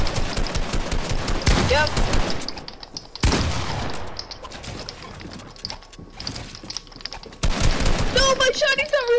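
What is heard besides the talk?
gunfire in Fortnite video game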